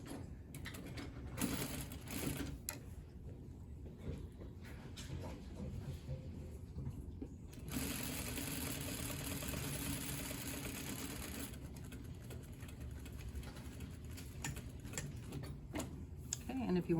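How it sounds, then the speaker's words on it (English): A sewing machine edge stitches the seam allowance along a tailored sleeve placket, running in a steady, close burst through the middle with quieter handling and start-stop stitching around it. "And edge stitch this into place."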